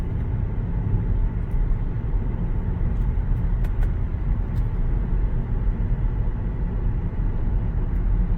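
A 2003 Audi A6 Quattro with a 3.0 V6 cruising on the road, a steady low engine and tyre drone that holds even throughout with no speech.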